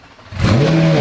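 A McLaren whose pyro fuse has been bypassed fires up after a near-silent moment and runs out of control, its engine bursting into a loud, sustained, racing roar.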